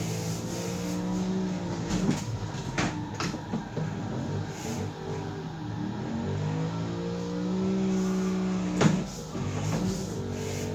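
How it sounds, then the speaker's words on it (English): A Chevrolet Camaro with extra power over an otherwise stock setup drifting in Forza Horizon 3, its engine droning and rising and falling steadily with several sharp transient hits and a peak near the end. "Now this car is just a Camaro with a bit of extra power."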